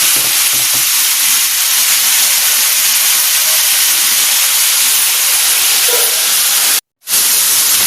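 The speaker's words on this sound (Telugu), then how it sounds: "ఇదిగోండి, ముక్కలు వేగుతున్నాయి కదా, టమాటా, పచ్చిమిర్చి అన్నీ వేగుతున్నాయి కదా." Cucumber pieces, tomato and green chillies fry in a pan for a cucumber roti chutney, giving a steady, close sizzling hiss that runs unbroken before a brief drop to silence near the end, then resumes.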